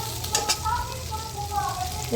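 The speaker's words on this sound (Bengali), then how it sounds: "কুঁদরি ভাজা হচ্ছে" Ivy gourd (kundru) fries in a pan, giving a continuous low sizzle with occasional stirring scrapes, and faint talk sits in the background.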